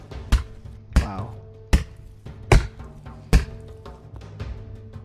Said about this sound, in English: The chopping sound has been redone.